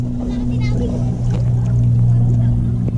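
A low, steady engine drone hums throughout, close and loud, with faint voices and water noise over it.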